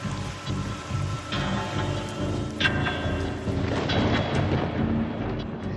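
Very heavy rain falling in Alipurduar, North Bengal, during a prolonged downpour, a steady loud wash of rain with low rumbling, like thunder, running throughout.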